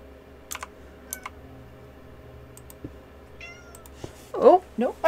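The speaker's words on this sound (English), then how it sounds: "I thought for a moment that I could hear little meows." A cat meows softly twice near the end, after a stretch of quiet keyboard typing and faint clicks.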